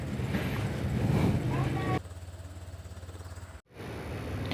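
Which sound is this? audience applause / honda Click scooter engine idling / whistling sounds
honda Click scooter engine idling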